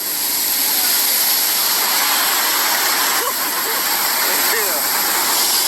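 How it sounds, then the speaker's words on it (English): Juan Diego Falls in Puerto Rico, a waterfall pouring into a freshwater pool at its base, heard close as a loud, unbroken roaring rush with faint voices and swooshes underneath. "this is up close and personal in the pool of fresh water at the base of the waterfall"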